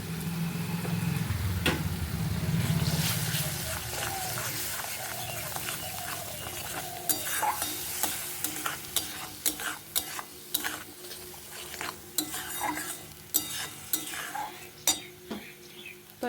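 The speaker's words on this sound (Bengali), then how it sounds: "তো এবার মশলাটা আমি ভালো করে একটু ভেজে নেব।" Spice paste with ground coriander, cumin and chilli fries in oil while a spoon stirs it. A loud sizzle at the start settles into softer frying, broken by repeated sharp scraping and clinking strokes against the pan.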